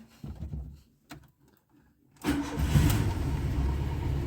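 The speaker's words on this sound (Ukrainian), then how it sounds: "пробуємо заводимо машину" A VAZ 2109 car engine cranks in a few short bursts with pauses between, then catches and settles into a loud, steady mid-pitched running rumble close by.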